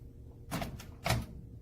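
The soft-close door of a Breville Combi Wave 3-in-1 microwave air fryer oven (BMO870BSS) gets drawn shut, giving two quiet, damped thuds about half a second apart against a low room hum.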